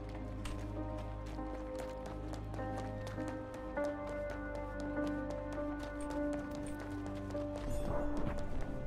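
Rhythmic clip-clop of horse hooves trotting steadily in the video game RedM, close by, over a sustained musical background with a faint voice near the end.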